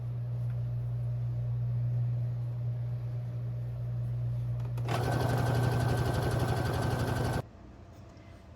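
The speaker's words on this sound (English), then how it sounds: "just going to sew over this with the zigzag stitch" A sewing machine runs a zigzag stitch over quilt batting, starting after a steady low hum and buzzing loudly and evenly for about two and a half seconds before stopping abruptly.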